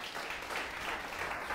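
A church congregation applauds at a Sunday service, giving steady, dense clapping from many hands throughout, moderately loud with a roomy wash.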